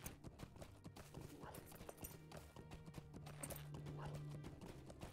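Horse hooves clip-clop in a steady galloping rhythm as a mount is ridden cross-country in the Lord of the Rings Online game, with an occasional whinny and busy game ambience underneath.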